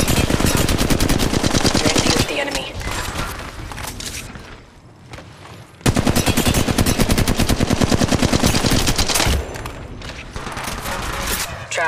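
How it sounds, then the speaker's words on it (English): Loud, sustained automatic gunfire in Apex Legends Mobile rattles in rapid bursts for most of the clip, briefly easing in the middle before resuming, with game callouts faintly underneath. "Getting shot at."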